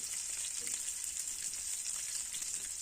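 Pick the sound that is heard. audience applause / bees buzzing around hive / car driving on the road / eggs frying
eggs frying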